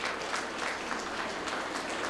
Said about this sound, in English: You can clap because it is because of you.